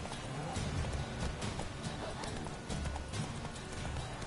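Horse hooves clip-clop in a galloping rhythm in The Witcher 3 video game, a quiet repeated thudding beat heard alone with no talk.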